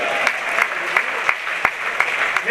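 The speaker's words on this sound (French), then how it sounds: "On peut applaudir tout le monde." Steady crowd applause with sharp individual claps fills a U23 world championship double final at Saint Vulbas, loud and continuous throughout.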